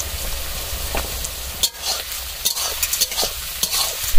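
Onions frying in a pan with a pinch of salt while a utensil stirs them, a steady close sizzle broken by repeated scraping strokes and a sharper clatter at the end, no voices.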